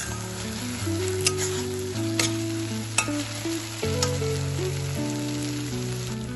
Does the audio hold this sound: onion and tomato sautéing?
yes